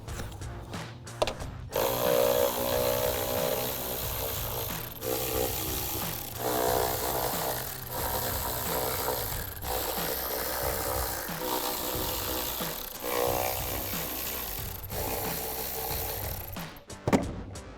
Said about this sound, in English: we're gonna take our ratchet and we're gonna take our 8mm socket and take out all the screws that hold on the lid to the airbox